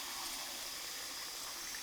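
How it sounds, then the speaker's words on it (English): Cold tap water runs steadily into a dish of fresh carrots, a continuous close hissing splash with no talk over it. "Pop them in the dish and fill it with cold water"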